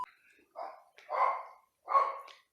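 A dog gives three short barks, fairly close and loud, with brief silent gaps between them.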